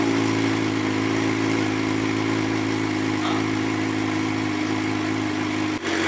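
A Suzuki GSX-R600 motorcycle runs on a new aftermarket exhaust with the baffle fitted, a steady, fairly quiet idle with an even mid-pitched engine drone and a brief dip near the end.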